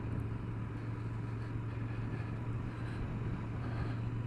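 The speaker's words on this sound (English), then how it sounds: "A nice quiet little burble. The exhaust not too loud, not too quiet." A steady low burble from a 2021 Royal Enfield Interceptor motorcycle exhaust idles on, even and unbroken, with a constant rumbling hum and no voices.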